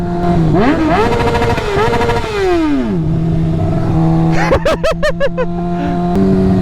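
A 2006 motorcycle engine revs up in a long rising-and-falling pull, drops back to a steady idle, then gives a quick series of sharp throttle blips before settling again, loud and close.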